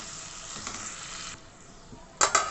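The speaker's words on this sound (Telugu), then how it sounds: "ఈ టమాటా ముక్కలు మొత్తం ఉడికిపోయేంత వరకు ఫ్రై చేసుకోవాలి" Tomato pieces fry in a pan for chicken handi, a steady close hiss of sizzling that dips briefly before a couple of sharper stirring scrapes, with no talk.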